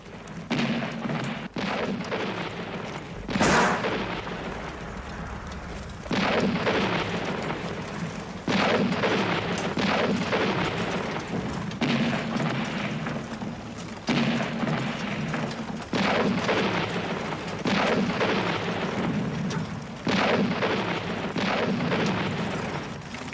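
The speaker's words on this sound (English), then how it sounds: "Those deep booms, that's the heavy artillery." Heavy artillery in a war film fires repeatedly: deep, loud booms and blasts land at irregular intervals every couple of seconds, each with a long rumbling tail, over a continuous low battlefield roar and no talking.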